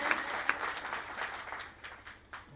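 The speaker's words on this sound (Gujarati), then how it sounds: "મોરબી સુરેશભાઈને જોરદાર તાળીઓ થઈ જાય." Applause from a gathering at a Gujarati devotional bhajan programme in honour of a donor from Morbi, a fairly quiet patter of clapping with a couple of sharper claps near the start, thinning out toward the end.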